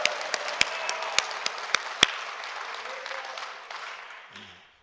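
A church congregation applauds and stamps their feet, starting with sharp, loud stamps over a wash of clapping that fades away over a few seconds.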